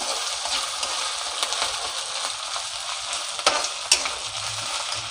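Village style chicken curry fries in a pan with a steady crackling sizzle, broken by a few sharp scrapes and taps of a spoon stirring against the pan bottom.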